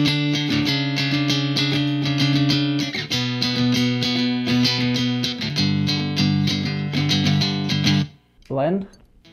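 A PRS P22 electric guitar, switched to its piezo pickup for an acoustic-style tone, strums sustained chords for several seconds before a brief pause and a final plucked flourish.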